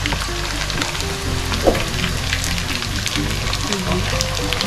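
Tocino sizzles and crackles steadily in a hot pan, a dense continuous frying hiss with occasional pops and faint clinks, no talking.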